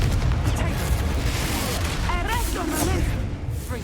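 Confringo fire-blast spell in Hogwarts Legacy, a dense burst of booming, crackling impacts heard close and loud amid busy combat noise, with a voice calling out briefly.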